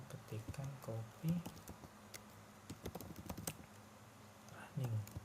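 Light, sparse clicks of keys on a computer keyboard as a command is typed, faint and irregular beneath a quiet voice speaking softly.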